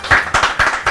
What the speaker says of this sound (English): Why you guys are cheering?